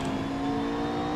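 A GT race car engine held at full throttle in Assetto Corsa, a loud, steady drone with a strong constant pitch and no people talking.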